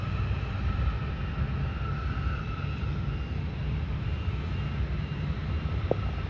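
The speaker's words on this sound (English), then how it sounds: "Ooh, the plane. Look at it." An airplane flies overhead as a steady, broad engine roar that holds throughout without breaking, fairly distant and even in level, with no talk over it.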